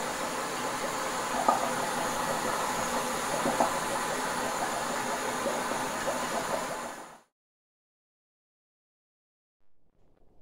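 Homemade DIY steam turbine with a nozzle arm made from quarter-inch brake line, running with a loud continuous steam hiss and rushing whir that stops abruptly partway through, leaving silence broken by a faint brief sound at the end.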